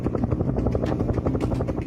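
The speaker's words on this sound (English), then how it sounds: "We had one incident where a helicopter flew low," A helicopter flies very low over a house, its loud, steady rotor thumping filling the air with a rapid rhythmic beat throughout.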